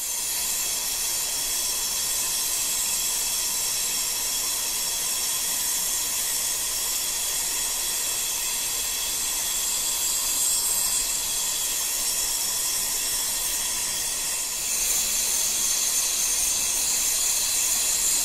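A torch flame hisses steadily and loudly while melting platinum on a charcoal block, a continuous broadband roar with a slight shift in tone near the end and no voices.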